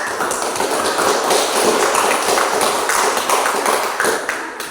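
An audience applauds a student group called up to present in a classroom, a dense, steady clatter of many hands lasting several seconds before easing off slightly at the end.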